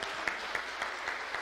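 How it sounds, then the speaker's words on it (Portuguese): Applause from an audience at a youth panel event, a brief, even wash of clapping with a few sharper claps standing out. "Uma salva de palmas para o Leandro, o podcaster,"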